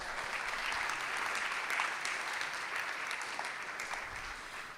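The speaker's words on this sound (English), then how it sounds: "let's give him one more round of applause" An audience at a digital heritage summit applauds steadily for several seconds, a broad, even wash of many hands clapping that gradually tapers off.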